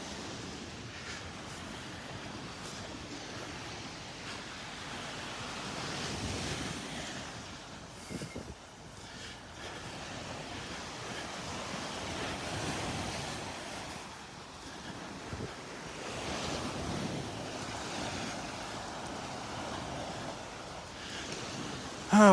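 Ocean surf on a beach in North Naples, Florida, a soft, continuous wash of waves rising and falling in slow surges, fairly distant and faint, with no voices.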